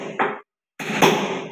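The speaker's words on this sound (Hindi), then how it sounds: "इसमें पंच करके इसको टाइट करके फिर बैठाना पड़ेगा।" Metal punch struck with a hammer to seat and tighten a hydraulic pump fitting: two sharp, close blows separated by a short silence, each ringing briefly.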